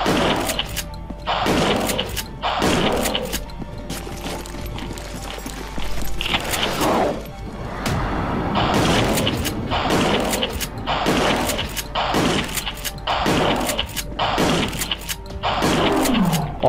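Rapid video game gunfire from Resident Evil: The Darkside Chronicles, with repeated loud bursts of shots in quick succession over booming, roaring game effects, continuous and dense for the whole stretch.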